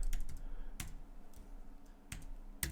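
Keystrokes on a computer keyboard while typing a password into a form field, a few separate clicks and short bursts spread across a couple of seconds, close and fairly quiet, with no talking.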